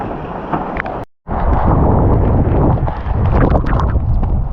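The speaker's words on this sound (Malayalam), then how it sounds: "നല്ല രീതിയിൽ മഴയും കാറ്റും" Steady rushing wind and rain roar loudly, briefly cutting out for a moment before resuming strongly.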